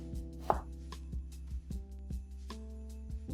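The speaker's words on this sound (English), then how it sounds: "And then we're going to take just slices off the half. And you'll have your nicely chopped onion." A knife slices through an onion on a cutting board, giving a series of crisp, close chops at a fairly regular pace, with one sharper knock early on.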